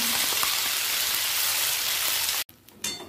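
Ground green pea paste dropped into hot white oil in a wok, producing a dense, rain-like sizzle that holds steady, then cuts out abruptly before a weaker hiss returns.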